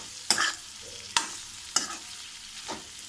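Masala spices for paneer curry frying in a pan as they are stirred, with four distinct scraping strokes of the spoon over a faint background sizzle.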